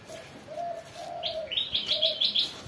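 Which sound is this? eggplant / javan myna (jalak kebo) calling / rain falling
javan myna (jalak kebo) calling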